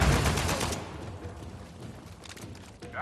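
AK rifle gunfire in the video game Uncharted 4, a loud burst of rapid automatic shots at the start that fades into quieter scattered fire and combat noise, with another sharp report at the very end.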